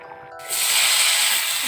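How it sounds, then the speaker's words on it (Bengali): Teasel gourds frying in a pan with onion and green chili: after a quiet start, a loud, steady broadband sizzle rises and holds close up, with no talk. "এখন আমি কাঁকরোলগুলোকে এভাবে ভেজে নিচ্ছি।"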